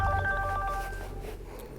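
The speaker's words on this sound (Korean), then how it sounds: "핸드폰 벨 소리가" A mobile phone ringtone plays a short burst of bright electronic tones that cut off after about a second, leaving a faint, fading low hum.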